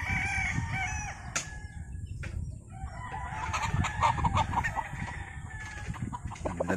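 A 5K sweater game fowl rooster crows nearby at a backyard farm, a rising call breaking over outdoor background noise, with another faint bird sound around it.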